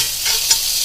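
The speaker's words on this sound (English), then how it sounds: "I'm going to get it into the pan here. Just to brown it." Sliced sirloin steak, about 1.5 pounds, hits a hot pan of olive oil to brown, giving a loud, steady hiss of sizzling with no voices.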